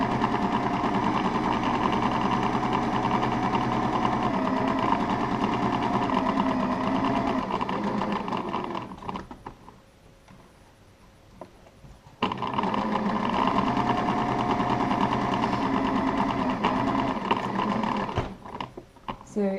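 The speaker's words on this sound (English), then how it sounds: "I'm just sewing mine on a normal." A household sewing machine runs steadily, stitching cotton fabric for a pot plant cover, with a close whirring motor and rapid needle rhythm, pausing briefly midway before starting again while someone talks over it.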